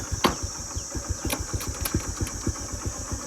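An off-road motorbike engine idles and putters outdoors in a fast, regular pulsing rhythm, fairly quiet and heard on its own.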